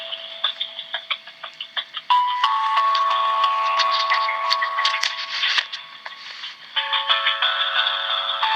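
Telephone call to the Crown Council held in a queue, with an electronic tone and chime-like ringing repeating steadily at moderate loudness and no voices present.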